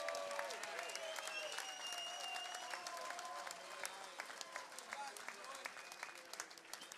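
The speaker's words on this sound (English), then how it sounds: "How about a fine round of applause for both boxers and their valiant effort?" A boxing crowd in a ballroom applauds both fighters after a bout, with a sustained roar of clapping mixed with whistles and shouted cheers. Individual claps pop out more sharply toward the end as the applause thins.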